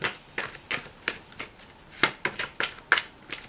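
Tarot cards are shuffled by hand before drawing clarifiers, a series of sharp riffling bursts at a roughly regular pace, close and crisp with brief quiet gaps between, no speech.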